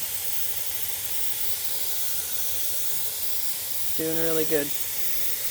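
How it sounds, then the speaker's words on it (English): Steam hisses steadily from the vent of a pressure canner during venting, a constant loud broadband rush throughout, with a brief spoken phrase near the end. "we're on the last 30 seconds of the 10 minutes for pushing that steam out"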